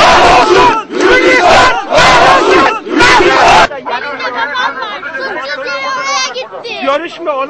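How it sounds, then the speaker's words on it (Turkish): A crowd at a border gate with Georgia shouting a protest slogan in unison, four loud rhythmic group chants, followed by agitated overlapping voices and chatter. "Kahrolsun! Gürcistan!"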